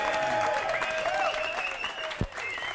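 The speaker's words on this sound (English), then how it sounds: "Give a big round of applause, ladies and gentlemen" Steady applause from an audience fills the space, a continuous wash of clapping with a tonal hum or music underneath and one brief low thump near the end.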